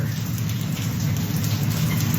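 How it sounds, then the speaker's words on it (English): Heavy rain pours steadily on a morning, a dense, continuous wash of falling water with no letup, close and fairly loud throughout, with no talk. "Boy, is it pouring here this morning."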